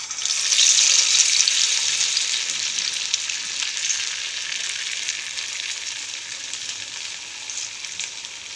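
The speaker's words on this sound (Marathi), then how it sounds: "आता मी हे तेलामध्ये सोडते." Chicken laccha pakoda drops into hot oil and sets off a bright, loud, continuous sizzle that swells at first and then settles into a steady, even hiss, with no talk.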